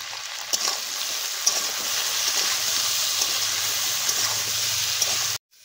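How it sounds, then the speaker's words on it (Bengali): Taro stolons fry in hot oil with salt and turmeric, a steady loud sizzle with occasional stirring scrapes that cuts off abruptly at the end. "লতিগুলো খুব ভালোভাবে ভেজে নিলাম।"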